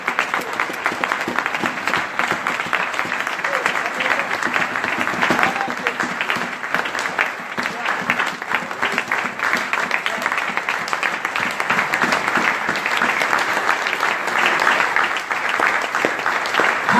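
A church congregation at a crusade gathering applauding and acclaiming the Lord, dense sustained clapping with shouts and voices mixed in, loud and steady throughout.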